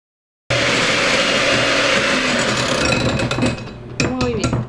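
An electric mixer whips a garlic-salt and black-pepper seasoned batter for poblano chiles rellenos, a close, steady motor whir that starts after a brief silence and runs continuously, shifting in tone near the end.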